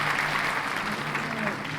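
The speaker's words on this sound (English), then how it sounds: "Let's have a round of applause for our exceptional student organizations" Applause from an audience at a university student leadership awards ceremony, a continuous broadband clapping texture filling the short span at even loudness.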